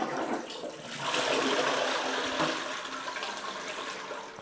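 A Saniflo upflush toilet's macerator pumps water after being plugged in, a steady rushing, gurgling wash of water with a mechanical hum, swelling midway and holding at moderate volume.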